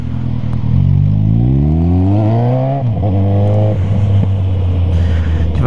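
A car engine winds up close and loud, its pitch climbing steadily through a hard acceleration, dropping briefly as the revs fall, then holding a steady drone.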